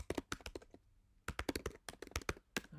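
Quick bursts of typing on a computer keyboard, clusters of crisp close key clicks separated by a short pause, fairly quiet and with no talking.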